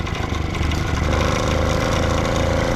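Diesel and petrol engines on a homemade all-wheel-drive bike run together at full throttle, a loud steady drone that rises as the second engine engages and holds a sustained tone.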